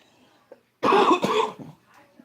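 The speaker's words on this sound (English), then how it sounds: "I know the coughing in your ear is not great" A single person coughs close to a microphone, a short burst of two or three harsh coughs after a quiet moment, then a faint breath and silence.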